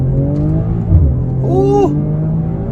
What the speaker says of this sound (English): try out an acceleration off the line